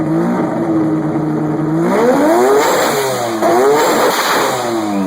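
A car with a twin-turbocharged rotary engine revs hard and loud, its pitch climbing and dropping in repeated sweeps as the engine winds up close by.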